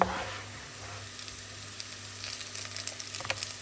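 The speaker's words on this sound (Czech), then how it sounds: "teď už je ta chvíle, kdy tam můžu dát ještě cibulku" Onion frying in a pan with a steady, close sizzle and faint crackles, preceded by a brief clatter as it goes in, and a low hum underneath.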